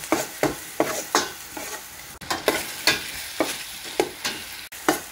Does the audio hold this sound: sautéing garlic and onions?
yes